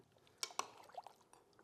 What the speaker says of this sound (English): I think I'm gonna add a little water here.